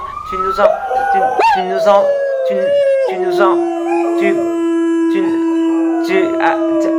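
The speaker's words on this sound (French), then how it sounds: "Il y a un chien quelque part." A dog howls in long rising and falling wails, with a few yelping barks mixed in, loud and close, while a person speaks briefly.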